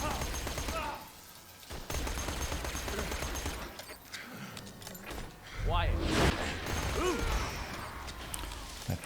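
Shock SMG fire in Borderlands 2 against shielded commandos: bursts of rapid gunshots with crackling electric impacts, mixed with other game effects and occasional swooping tones, fairly loud throughout.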